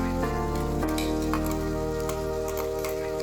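Masala paste frying in hot oil with spluttered mustard seeds for a Vatana gravy bhaji, a continuous close sizzle and crackle with a few stirring clinks of a utensil against the pan.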